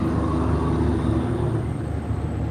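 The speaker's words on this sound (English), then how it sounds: "loud truck." A loud truck rolls past close by, giving a steady broadband engine and road roar that holds at high level with no talk over it.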